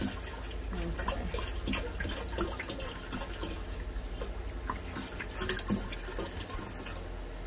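Water pours into a Tower Garden reservoir as a continuous close splashing and gurgling stream, with small drips and sloshes over a low rumble.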